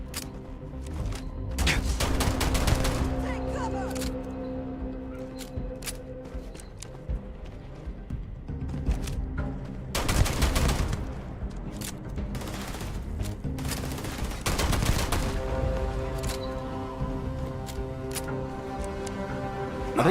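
Bursts of gunfire in the video game Starfield crackle in rapid volleys at moderate volume over a dense background of game effects and music, with a few scattered heavier shots.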